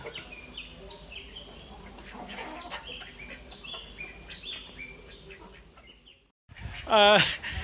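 Newly hatched native chicks and a hen peep and cluck softly in a steady background chatter, then a louder call rings out close by near the end after a brief hush.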